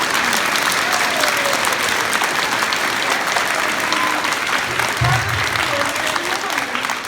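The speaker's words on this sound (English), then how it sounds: "I want everybody to give themselves a big hand of applause" A crowd at an elementary school celebration claps loudly and continuously for several seconds, dense applause filling the room with a few whoops.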